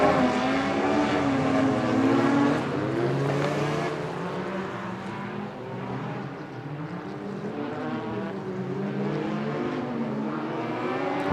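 Stock cars race around an oval track at an evening meeting, a continuous layered roar of several engines rising and falling in pitch as cars pass, heard from the stands with no talk.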